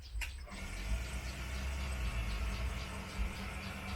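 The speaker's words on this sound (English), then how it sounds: "That's our water pump, if you're thinking what that noise is." A water pump runs on a permaculture farm, a steady low mechanical drone with faint rhythmic ticking, heard at a moderate distance under outdoor ambience.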